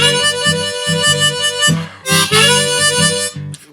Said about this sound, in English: but on the 4 chord you could bend that lower trill down so it sounds like this